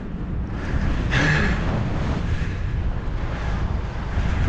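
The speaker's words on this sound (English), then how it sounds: "I'm riding up here and riding into the wind" Wind roaring over the microphone while riding a bike into a headwind through a park, a loud continuous rumbling buffet with a stronger gust early on, no voices.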